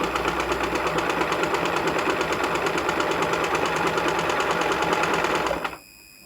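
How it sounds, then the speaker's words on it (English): A tabletop sewing machine runs steadily, stitching a buttonhole, its rapid mechanical whir loud and close for over five seconds before it stops abruptly into near silence. "So let's go ahead and stitch the next one."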